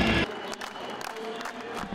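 A packed crowd of more than 2,300 roars at a men's college conference basketball game between Augustana and Elmhurst, with a loud burst at the start settling into a steady, dense wall of cheering and chatter.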